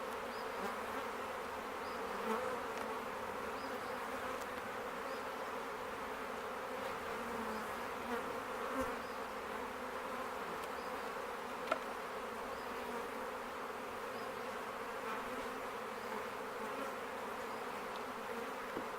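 Honey bees buzz around a hive being split in February, a steady, faint hum of many insects that continues throughout with no voices.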